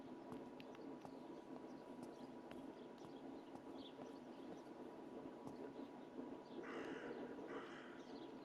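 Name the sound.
bird cawing in video game Martha is Dead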